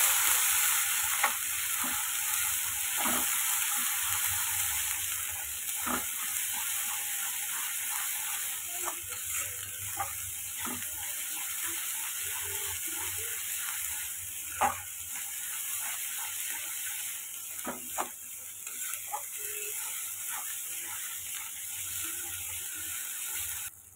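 Potatoes and pointed gourd frying with salt and turmeric, a steady close sizzle broken by repeated scraping and clinking as a spoon stirs the pan.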